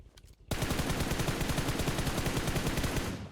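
Sustained automatic gunfire in PUBG Mobile, likely an MG3 machine gun, opening abruptly after a few faint shots and then hammering on in a loud, steady rapid rhythm for about three seconds before tapering off.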